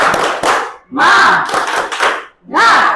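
A classroom of students shouting the 'tepuk semangat' spirit chant together with rhythmic claps, loud and close, in three bursts separated by short pauses.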